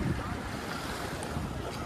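Wind buffets the microphone beside water at a mangrove boat jetty in Pondicherry, a constant broadband rush with soft lapping underneath and no clear voices.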